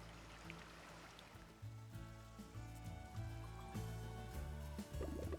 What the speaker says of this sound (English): To the sound of the water.